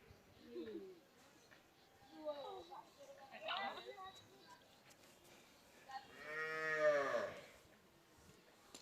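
A cow in a village lets out one long, drawn-out moo near the end. Scattered voices and other faint farmyard sounds come earlier, in a quiet rural setting.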